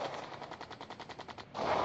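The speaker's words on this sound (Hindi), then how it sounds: "गोलियाँ चल रही, गोलियाँ चल रही हैं।" Rapid machine gun fire in the Sky Fighters aerial combat game, a steady rattling burst of evenly spaced shots lasting under two seconds, followed by a louder rushing blast at the end.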